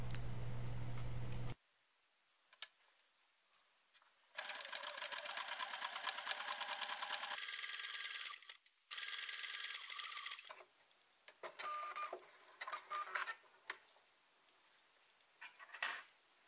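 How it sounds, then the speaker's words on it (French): A sewing machine runs a zigzag stitch along the left fabric edge of a small wallet piece, close and clear, in several long stretches of fast rhythmic ticking broken by pauses, with no voices. "On va piquer au point zigzag le bord gauche."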